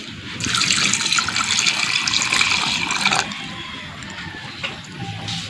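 Water gushes steadily from a tap into a cooking pot for pork sinigang, loud and close for about three seconds before cutting off, followed by quieter trickling and light clatter.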